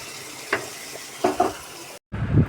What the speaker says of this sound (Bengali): আর এপাশে কিন্তু আলুটা ভাজা হচ্ছে।